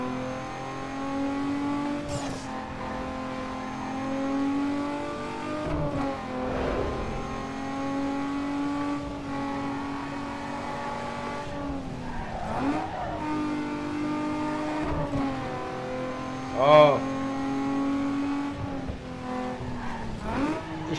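A race car engine in the video game Need for Speed Underground 2 drones and revs steadily for a long stretch, its pitch rising and dipping through gear shifts, with a brief sharp tire squeal or skid partway through.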